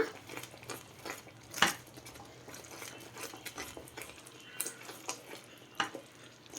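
A utensil scrapes and clinks against a pan while thick 7 cup burfi mixture is stirred, giving irregular soft scraping strokes with sharper metallic taps now and then, close by and with no talking.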